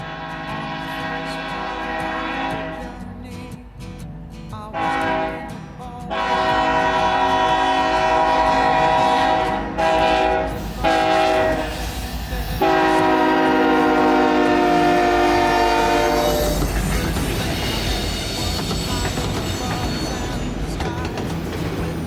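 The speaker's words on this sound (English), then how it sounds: "The next train to pass would be NS 188 with a friendly crew on board." Norfolk Southern freight NS 188, a short train of 15 autoracks, passes close by on a busy Georgia line; loud blasts of the horn sound over the heavy rumble and clatter of the cars rolling past, with no talking.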